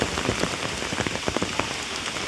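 Heavy monsoon rain at Matheran hill station pours steadily in a dense, hissing patter on surfaces nearby, with scattered sharper drops, and no voices.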